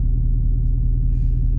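A cammed 5.3 V8 in a regular cab short bed pickup truck idling with a deep, loping, pulsing rumble, loud and close, heard alone without talk.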